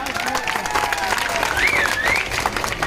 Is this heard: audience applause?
yes